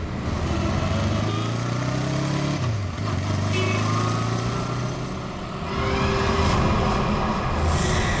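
Motorcycle engine droning steadily, shifting pitch as it rides off along a road, with a continuous motor hum and a brief dip before the revving rises again; no talking.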